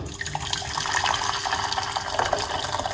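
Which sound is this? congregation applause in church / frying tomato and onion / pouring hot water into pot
pouring hot water into pot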